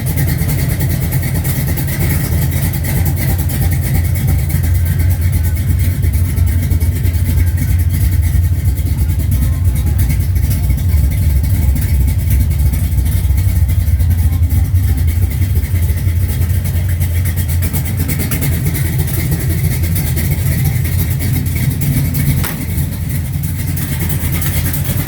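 A cammed 440 V8 in a Dodge Charger race car being converted for street use idles loudly and steadily up close, with a rough, lopey rumble and an exhaust leak, no talking.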